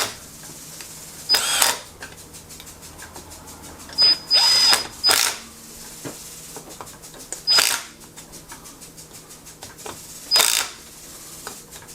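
Impact wrench tightening clutch bolts while installing a clutch spring on an X3: several loud, short rattling bursts, close by, separated by quiet pauses.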